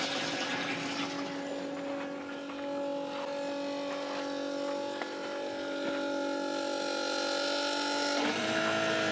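An inexpensive 12-volt DC fresh water pump runs steadily while filling, a continuous close motor whine with a strong tonal hum, shifting pitch slightly near the end as the load changes.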